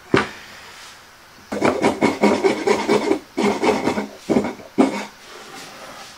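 A small rat tail rasp files a wooden part at the woodworking bench, a series of gritty back-and-forth strokes in uneven bursts with short pauses between, close and clear with no talking.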